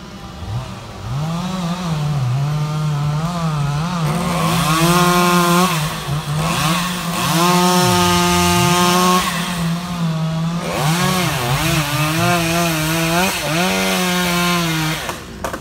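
A chainsaw cutting tree branches in the Mekong Delta, its engine revving up and bogging down repeatedly under load, loud and close, with short idle dips between cuts.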